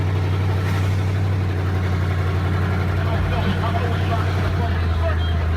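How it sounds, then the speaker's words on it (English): A 1973 Pontiac Grand Am with a 400 engine runs loud and steady, its exhaust leaking at the manifold, a constant low rumble with someone talking over it. "it's loud because the exhaust is leaking at the manifold, as well as the exhaust needs replaced"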